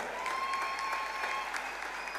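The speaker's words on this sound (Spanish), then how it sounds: "Fuerte el aplauso para quienes nos acompañan." Audience applause at an outdoor folk concert in Río Gallegos, a steady, fairly distant patter of many hands clapping with a faint tone held above it.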